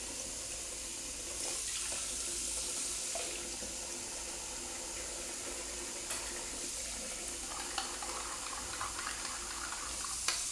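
Tap water running into a wash basin, a continuous splashing stream with a few sharper drips and clinks toward the end, heard close by with no talking.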